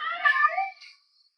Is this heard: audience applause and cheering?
no